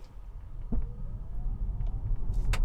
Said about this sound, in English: So let's accelerate again.